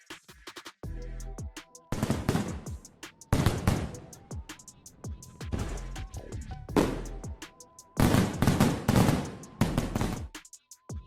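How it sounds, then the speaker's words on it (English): Daytime fireworks going off in a series of loud, sharp bangs and crackling bursts separated by short pauses, some booms ringing out and decaying. "Did you know fireworks are launched during the day too?"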